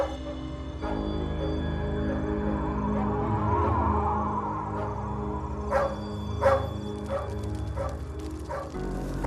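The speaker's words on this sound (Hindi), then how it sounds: "आखिर टॉमी इतना भौंक क्यों रहा है?" A dog barks repeatedly in short sharp bursts, with a few louder yips toward the end, over a steady low background hum.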